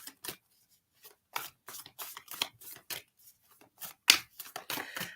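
A deck of tarot cards is shuffled by hand in short, quiet bursts of riffling and snapping with gaps between them, close and soft, with no voice.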